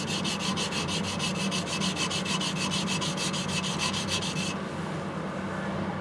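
A professional sushi chef's knife is ground on a natural sharpening stone. Quick, steady back-and-forth rasping strokes sound close up for about four and a half seconds, then stop and leave a soft hiss.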